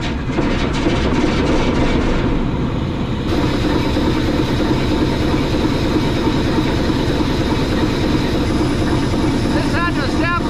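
An old steam locomotive on a scenic mountain railroad labors as it tries to start, a dense, loud, continuous mechanical rumble with hissing and clanking throughout, a voice heard over it.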